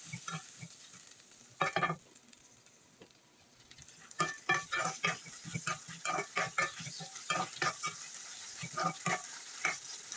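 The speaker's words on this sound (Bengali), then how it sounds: "প্রথমে চিংড়ি মাছকে হালকা ভাজি করে নিব" Prawns frying lightly in a pan, a steady sizzle under repeated scraping and stirring strokes that come in quick irregular bursts, close and moderately loud, with no voices.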